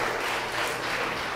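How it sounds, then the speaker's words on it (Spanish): A studio audience at a comedy talk show applauds in a brief, dense burst of steady clapping. "Un aplauso, por favor."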